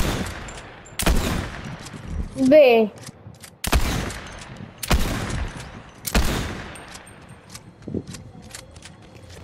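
Sharp, loud bursts of gunfire crack out every second or two amid Fortnite game sound effects, with a brief spoken exclamation mixed in.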